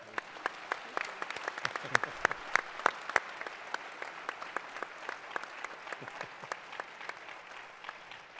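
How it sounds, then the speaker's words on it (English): An audience claps steadily, a dense patter of hands with a few louder close claps standing out, fading slightly toward the end. "Please give a big warm of applause to our three guests and to President Ed Ray."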